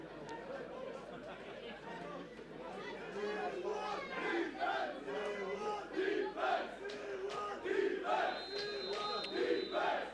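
Stadium crowd at an American football game between Switzerland and Italy, a loud continuous roar of cheering and chatter that swells in waves, with a commentator talking over it.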